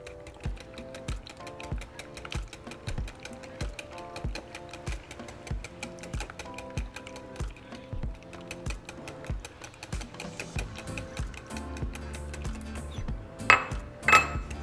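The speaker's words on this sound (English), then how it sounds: "continue whisking until everything is nice and smooth" Whisk beating a white chocolate flan mixture with eggs in a bowl, a fast, steady clicking and tapping against the sides, close and clear, ending with a few louder clanks.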